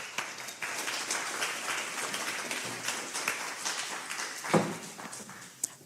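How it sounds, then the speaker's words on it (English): An audience at a panel event on AI and the South African creative sector claps as a speaker comes onstage, moderate, fairly close applause with a few louder claps and a thump before it ends. "Can we please get a round of applause?"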